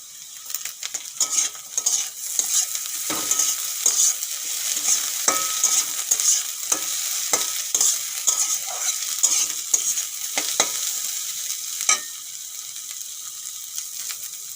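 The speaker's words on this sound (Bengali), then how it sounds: "ক্যাপসিকাম দেওয়ার পরে একটুকুন ভেজে নিয়েছি" Capsicum and onions fry in a pan for egg chowmein, a steady close sizzle broken by frequent sharp scrapes and clicks of stirring, with no talking.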